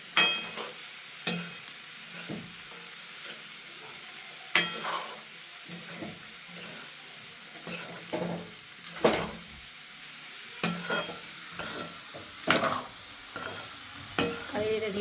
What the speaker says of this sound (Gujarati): આપણે સાવ એને ધીમે ધીમે મિક્સ કરી લેવાનું છે